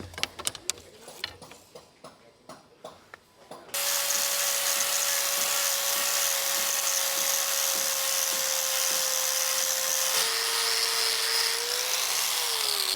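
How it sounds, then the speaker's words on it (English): A power sander works over marine grade plywood, a loud steady whine that runs continuously from about four seconds on, with a slight pitch shift near the end, after a few scattered knocks and clatter at the start. "So I've sanded it all down,"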